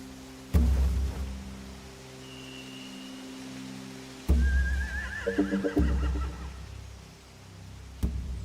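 A horse whinnies and snorts in short bursts over a low ambient hum, with a few sharp thumps scattered through, in a video game (The Walking Dead: The Final Season).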